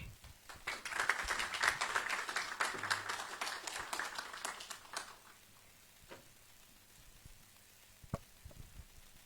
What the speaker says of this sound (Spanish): Vamos a recibir con un fuerte aplauso a Carlos Gustavo Machicado.